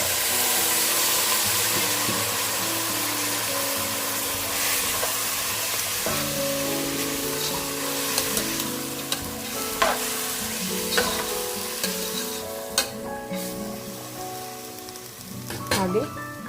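Soaked legumes tipped into a pan of frying onions while cooking soppina palya set off a loud hiss and sizzle, followed by scraping stirring and occasional sharp clinks of a spoon against the pan.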